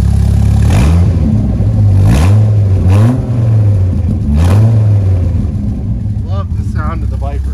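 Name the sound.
2004 Dodge Viper SRT-10 engine running and revving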